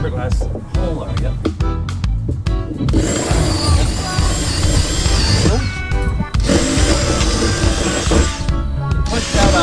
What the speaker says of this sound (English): Drilling into the fiberglass hole area.